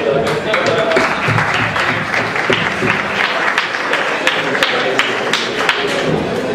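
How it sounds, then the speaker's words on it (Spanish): A crowd at a public talk on the Higgs boson claps steadily throughout, a thick wash of many hands with scattered sharper claps, and voices murmur underneath. "Un aplauso."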